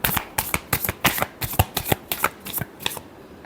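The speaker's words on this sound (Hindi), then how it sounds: "last shuffle" Tarot cards shuffled by hand, a rapid run of crisp riffling flaps and slaps in quick bursts, close up and alone.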